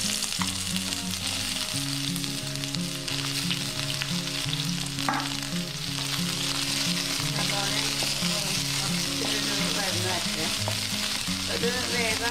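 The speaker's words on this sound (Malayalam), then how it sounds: "ഇതിൽ ഇനിയിപ്പോ ഈ സബോള അരിഞ്ഞു വെച്ചത് ഇതിൽ ചേർക്കണം." Chopped onions fry in a spoonful of oil for a Kerala anchovy fish curry, making a loud, continuous sizzle with stirring, with background music playing throughout.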